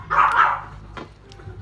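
A dog gives a single short bark, fairly close, followed by a faint yip and quiet background.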